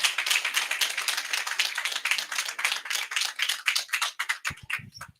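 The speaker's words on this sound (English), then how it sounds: "Let's appreciate our guest of honor. Round of applause." Audience applause for the guest of honor at a Wajir County Assembly year-end award ceremony, dense clapping that thins into a few distinct separate claps before ending.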